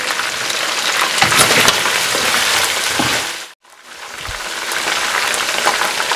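Chicken fries in a karahi pan with crushed cumin, giving a loud, steady, close sizzle that briefly drops out for a moment before resuming at full strength.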